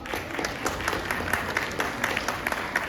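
An audience at a Tamil speakers' club seminar on culture in Boon Lay, Singapore, claps steadily. The dense applause is sustained and fairly loud throughout, with no voices over it.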